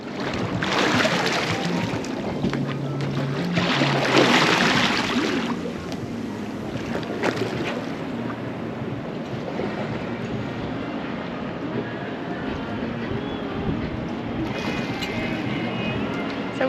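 A kayak glides over clear tropical water off a remote island in the Louisiades, Papua New Guinea, with steady wind and water wash, louder paddle-like swells early on, then a softer continuous rush.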